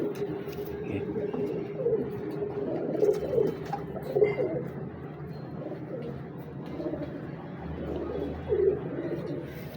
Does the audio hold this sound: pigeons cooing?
yes